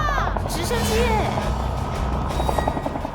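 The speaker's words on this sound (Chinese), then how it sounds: "直升机耶！" Helicopter arriving at an island survival contest on a TV variety show, a loud, close rotor thump and engine drone running throughout as excited voices call out over it.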